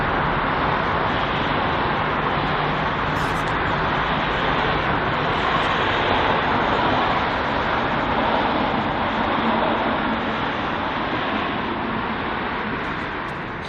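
American Airlines Boeing 777 taking off from runway 27 left at London Heathrow, a broad continuous jet roar heard from a distance, steady and loud throughout with a slight fade at the end and no voices.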